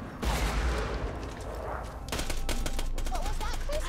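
Bursts of gunfire and explosions from the video game Borderlands 2 play loud and continuous with dense repeated shots, some booming impacts and brief high whistling tones layered over the action.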